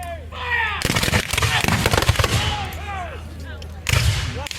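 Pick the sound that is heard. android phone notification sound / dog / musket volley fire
musket volley fire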